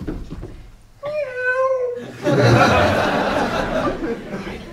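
A man mimics a small cat with a rising, wavering falsetto meow lasting about a second, followed by a burst of loud audience laughter in a comedy club.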